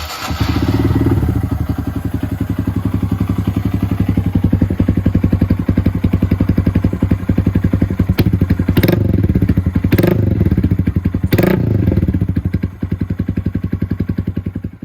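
A 2022 Honda Grom with a swapped-in 300cc engine, nearly out of fuel, runs steadily up close, a loud throbbing idle with a few sharp blips of throttle near the end.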